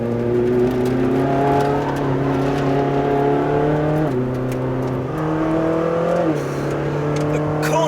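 A Ferrari 458 Speciale with a 597bhp engine is driven hard on a track, its loud, continuous engine note holding steady, dipping briefly around gear changes and climbing again.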